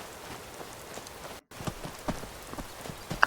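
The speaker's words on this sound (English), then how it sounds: "But we just got some rain coming down." Steady rain patters on surfaces in Skyrim with the Haze 2 weather mod, a soft continuous hiss with scattered raindrop ticks and a brief dropout midway.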